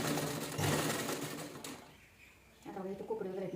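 A sewing machine runs in a fast, steady burst while stitching a blouse neckline, stops briefly, then starts again, heard up close.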